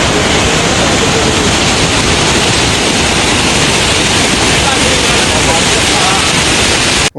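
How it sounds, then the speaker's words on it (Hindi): Loud, steady rushing water of the Chenab River at the Head Marala bridge near Sialkot, a dense, unbroken roar close by that fills the whole stretch before cutting off abruptly at the end. "जैसे ही हम हेडमाले के पुल पे उतर के खड़े ही हुआ तो इतनी पानी की आवाज़ थी"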